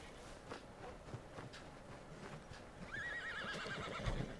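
A horse in Red Dead Redemption 2 gives a clear whinny near the end while its hooves clip-clop along the ground, set against a low, steady game ambience.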